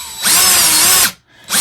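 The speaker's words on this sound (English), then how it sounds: "you can drill all the way through like that" A power drill bores straight through craft material for a heart stuffie project, a loud close whine lasting about a second, a brief pause, then the motor spins up again.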